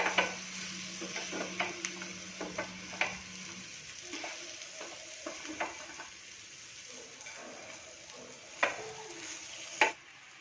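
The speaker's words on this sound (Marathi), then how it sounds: "ही सेव घालून झाली की आता आपण हे मिक्स करणार आहोत" Vermicelli (sev) is stirred in a pan with a soft continuous sizzle, scattered scraping and clinks of a utensil against the metal, and a couple of sharper knocks near the end.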